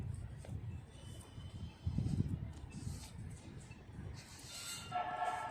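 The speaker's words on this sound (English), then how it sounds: "It's the westbound train that turns and goes north right here." Westbound train approaching and turning north, a faint distant rumble of rail traffic under outdoor ambience, with a soft horn-like tone rising near the end.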